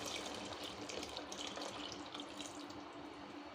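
Beef cooking water pours into a biryani pot in a home kitchen, a steady, fairly quiet rushing splash that holds unbroken for several seconds.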